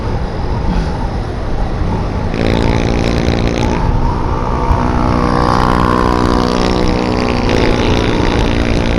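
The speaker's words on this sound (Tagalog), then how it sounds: "nakakatuwa yung mga motor" Engines hum and rumble steadily in passing traffic on Commonwealth, with a louder motorcycle whining past midway, continuous and fairly close.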